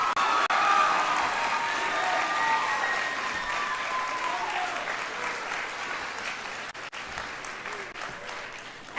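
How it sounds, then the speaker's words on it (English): A room full of people applauds at a Las Vegas homecoming event, the clapping loud and sustained at first, then slowly thinning toward the end, with a few voices and cheers mixed in. "Another round of applause for Ellie."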